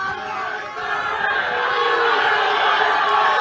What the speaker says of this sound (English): he was met with some "Pay Micah" chants from the crowd